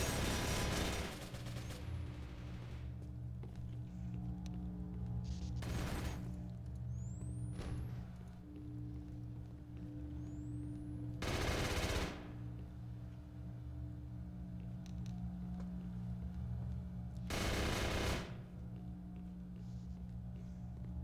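Weapon fire in the NEOTOKYO shooter, a few sharp shots spaced several seconds apart over a steady low mechanical hum, with faint whistling streaks between them and no voices.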